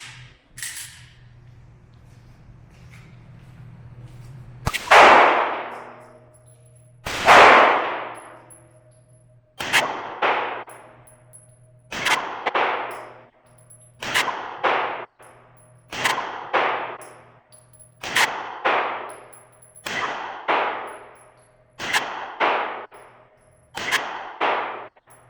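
Springfield Hellcat 9mm pistol fired at a steel target: about a dozen sharp, loud shots at a steady pace, each report followed by a short ringing decay.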